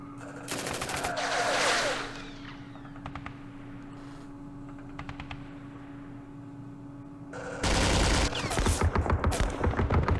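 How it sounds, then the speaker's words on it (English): Bursts of machine gun fire in the wargame Campaign Series Vietnam, a loud rapid rattle at the start, scattered shorter volleys in the middle, then a heavy sustained burst at the end over a constant low hum. "Damn machine guns."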